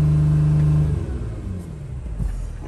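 Engine of a 2008 Dodge Sprinter van stuck in limp mode at about 3000 RPM, a loud steady rev with a strong low tone for the first second that then falls away into a rougher, fading rumble, with no talk.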